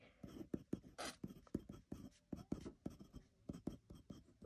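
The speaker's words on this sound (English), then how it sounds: "let's see if we can write all our alphas, alphabets without reinking" A glass pen writes the alphabet on paper, giving quiet, close scratchy strokes in a steady rhythm of short bursts, with no talking over it.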